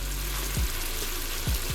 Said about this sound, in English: I put it on medium to low heat, and we're gonna let this bacon render down its fat